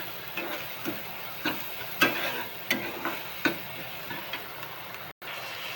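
Onion frying in a pan for a dish of dried shrimp (sukat) with green chili, with a low steady sizzle and a series of soft scraping taps as a spoon stirs it every half second or so.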